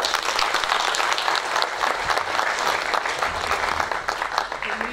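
A seminar audience at a tax education event gives a professor a dense, sustained round of applause, steady and full throughout without letting up.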